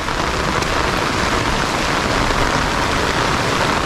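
Rain pours down steadily in a rural province, a loud, constant wash of heavy rainfall hissing on surfaces close by, unbroken and without voices.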